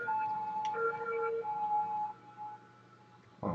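Ambulance siren in the city-building game Cities: Skylines, a two-tone wail alternating steadily and fairly loud for about three seconds before cutting off, with a brief thump at the end and no talk.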